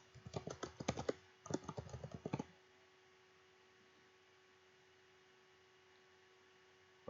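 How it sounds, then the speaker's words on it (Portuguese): Computer keyboard typing in a quiet room, a quick burst of close key clicks for about two seconds, then a pause and more clicks, then near silence with faint mains hum. "nessa primeira linha, nós vamos aqui digitar o nome de tabela de notas"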